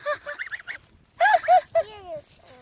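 Domestic geese on a farm honk in short nasal bursts at close range while being fed, a first cluster of calls, a brief pause, then louder honks with a falling, drawn-out note.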